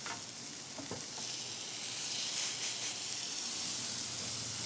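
Feta-stuffed Greek burgers fry in a hot pan, giving a soft, steady sizzle and hiss that swells slightly midway, fairly faint and even, with a couple of small taps near the start and no speech.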